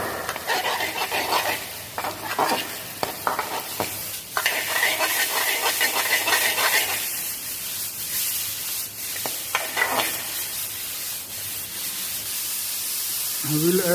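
Thick julienned mushrooms sizzle in a hot pan for mushroom risotto, with a steady frying hiss and repeated scraping and stirring strokes from a utensil, close and fairly loud, no talking.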